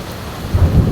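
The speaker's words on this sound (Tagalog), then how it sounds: "O yun na, may kidlat na guys." A short, low rumble of thunder swells up amid steady rain noise during a lightning storm in Singapore.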